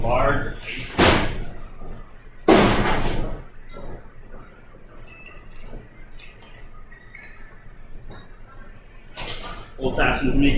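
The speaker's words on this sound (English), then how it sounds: "we're going to add a large ice cube" A large ice cube drops into an Old Fashioned cocktail in a rocks glass, giving a few loud, sharp clunks spaced several seconds apart while someone talks in between.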